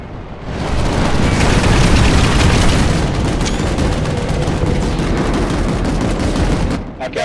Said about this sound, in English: Everybody shoot your guns.